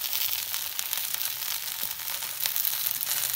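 Chopped okra and onion sizzle steadily in a hot pan for bhindi pyazi, a dense continuous frying hiss with faint crackles throughout, close up and with no voices.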